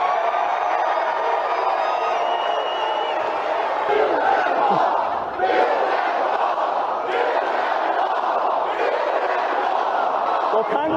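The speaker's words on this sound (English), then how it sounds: "listen to how the crowd was responding when he talked about his intention, his continued intention to build that wall on the Mexican border" Political rally crowd roaring and chanting in response to talk of building the Mexican border wall, a sustained loud mass of voices with shouts and whoops, steady throughout.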